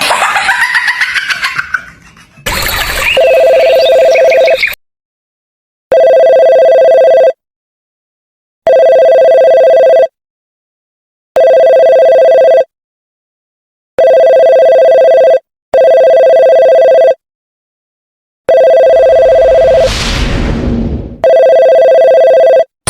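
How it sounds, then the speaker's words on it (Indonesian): Telephone ringing in the Sakura School Simulator video game, loud repeated electronic rings in evenly spaced bursts with silent gaps, preceded by a brief noisy passage. "Siapa sih yang nelpon pagi-pagi kayak gini?"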